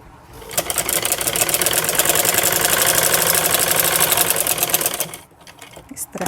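A sewing machine stitches a slanted seam on wrap trouser or palazzo fabric, whirring loud and steady with a rapid mechanical rhythm for several seconds before slowing and stopping.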